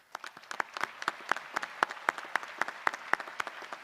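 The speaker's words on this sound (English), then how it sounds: "please give another round of applause to all recipients" Sparse, uneven clapping from a small number of people at a high school graduation ceremony, individual claps distinct and fairly close, steady rhythm for about four seconds with no voices.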